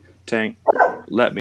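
A dog barks a few times, close and fairly loud, mixed with casual talk in a relaxed chat-show setting.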